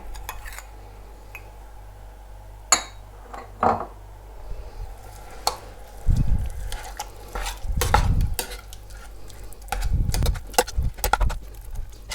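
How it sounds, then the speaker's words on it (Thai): Minced pork dropped into a pot of boiling rice water and stirred: intermittent scraping, clinking of a utensil against the pot, and soft bubbling bursts, close and moderately loud with no talking. "น้ำข้าวเดือดได้ที่แล้วนะคะ ใส่หมูสับลงไปล้วนก่อนเลยค่ะ"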